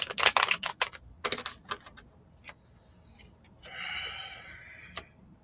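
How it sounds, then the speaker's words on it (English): Tarot cards are shuffled by hand, giving rapid crisp riffling bursts in the first second and again around 1.3 seconds, then scattered light taps and a soft rustle, close and clear, with no talking. "I'm shuffling the cards up because I'm going to do a hot"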